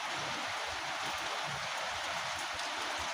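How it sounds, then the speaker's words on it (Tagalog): Steady rain falls outdoors in a vegetable garden where eggplant seedlings are being transplanted, a dense, even hiss filling the whole stretch with no voices. "Pero may ulan siya."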